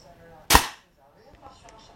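An air gun fires a single H&N pellet with one sharp, loud crack that decays quickly, followed by faint handling noise.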